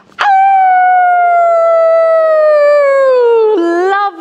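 Human voices imitate a wolf howling at the moon, one loud sustained howl that slowly falls in pitch and breaks lower near the end, close and alone.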